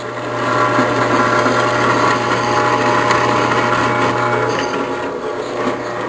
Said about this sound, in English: I'm making a new shock bracket on my made in China Craftsman drill press